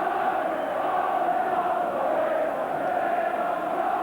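A crowd of nearly 28,000 at a Liverpool versus Tottenham Hotspur FA Cup match on a dreadful day on Merseyside, a steady distant roar that holds evenly throughout.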